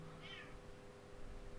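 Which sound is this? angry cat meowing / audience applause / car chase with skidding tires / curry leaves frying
angry cat meowing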